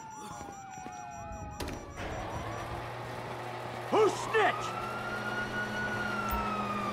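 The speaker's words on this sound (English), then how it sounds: "you hear that? Sirens." Police sirens in Grand Theft Auto V wail and yelp from the distance, with rising and falling tones, while a voice speaks briefly over the scene.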